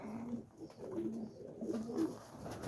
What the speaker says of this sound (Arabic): هاي الحمام بالصيف جبناه من العراق